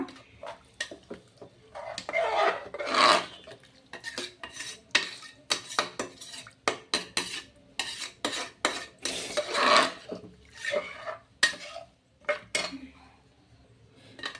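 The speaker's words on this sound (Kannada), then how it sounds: "ಇಷ್ಟು ನೀರನ್ನು ಆ್ಯಡ್ ಮಾಡಾದ್ಮೇಲೆ ಮಿಕ್ಸ್ ಮಾಡ್ಕೊಳ್ಳೋಣ" Vegetable pulao being stirred in a pot just after water is added, with a metal spoon scraping and clinking against the pot in irregular bursts, fairly close and moderately loud, no talk.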